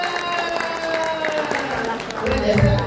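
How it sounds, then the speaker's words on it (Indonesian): An audience applauds at a school event honouring a national teacher-innovation winner, a dense steady patter of many hands with a ringing tone underneath, swelling slightly near the end. "Tepuk tangan untuk semuanya."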